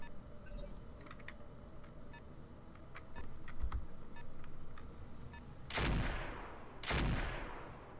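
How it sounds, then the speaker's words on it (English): In the video game Roguepoint, a snub nose revolver fires two loud, booming shots about a second apart. Quieter clicks and game noise run underneath throughout. "I'm gonna go with the snub nose and fire."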